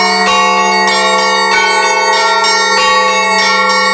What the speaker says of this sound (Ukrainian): встановили систему «Електронний дзвонар»